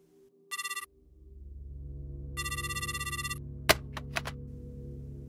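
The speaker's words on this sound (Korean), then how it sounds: "두세 번 신호음이 울리고" A telephone rings through twice in a repeating electronic ringtone pattern, loud and close, with a low hum beneath and a few sharp clicks as the handset is picked up.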